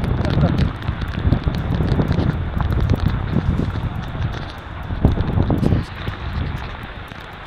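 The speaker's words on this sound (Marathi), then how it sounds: "पाऊस बघा, पाऊस बघा" Rain pours steadily outdoors at Panhala on a windy day, a dense, continuous hiss that lasts throughout, with voices and movement close by.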